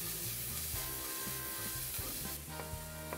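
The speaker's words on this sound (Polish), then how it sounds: "Całość leciutko przesmażę." Finely chopped bell peppers in all three colors lightly frying in a pan, giving a steady soft sizzle with faint stirring and no voices.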